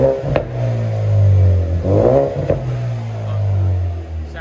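A Ford Mustang EcoBoost with MagnaFlow MagnaPack mid mufflers and a rear muffler delete revs up twice close by, each throttle blip rising and falling in a deep, droning exhaust note.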